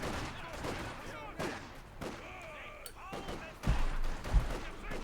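Battle sounds from the video game Company of Heroes 2: scattered bursts of machine gun fire and heavier gunshots, some bunched and some isolated, growing louder toward the end, under a commentator's voice.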